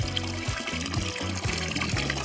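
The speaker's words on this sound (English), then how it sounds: "Let's fill it with water." Water is poured into a small toy pool, a steady close trickle and splash with a faint rhythmic pulsing throughout, under a low repeating background tone and no talk.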